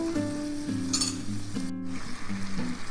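A pan of sauce sizzles and bubbles steadily, with a brief clink of a utensil partway through.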